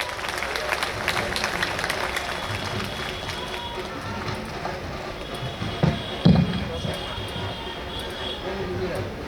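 Applause from a crowd at a formal gathering welcomes a former chief justice, a steady, moderate spread of clapping with a few louder claps near the end.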